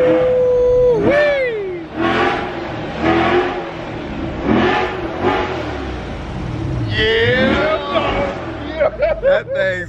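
A Chevrolet Corvette C8 engine revs and accelerates in loud, rising pulls between shouted excited voices, with a final sweep near the end as the car picks up speed.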